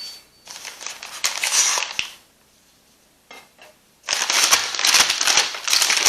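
Steak being unwrapped from its packaging while making teriyaki beef jerky, heard as loud, close crinkling and rustling of plastic wrap in two long bursts, separated by a quiet gap with a few brief crackles.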